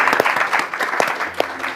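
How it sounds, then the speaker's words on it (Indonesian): A studio audience on a live Bali television broadcast claps briefly, a few sharp distinct claps standing out in a short, fairly close burst. "Oke, tepuk tangan dong."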